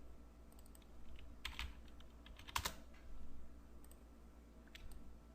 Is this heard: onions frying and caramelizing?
no